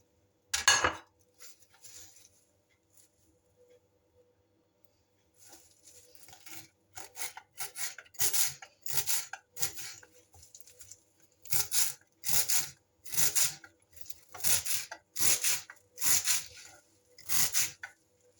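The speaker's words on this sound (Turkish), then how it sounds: "Dere otunu ve maydanozu doğradım" A knife chops dill and parsley quickly against a cutting board in bursts of crisp, evenly spaced taps after a soft early knock, with no talking.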